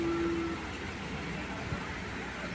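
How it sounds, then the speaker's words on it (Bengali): Darjeeling toy train running near the Batasia Loop, a steady low rumble and rolling drone throughout, fairly loud and continuous with no voices. "টয় ট্রেন দেখতে পাবেন এখনই।"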